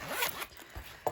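A zipper is pulled closed on a planner wallet in a few quick, close, scratchy strokes followed by a final short zip, quiet and heard alone.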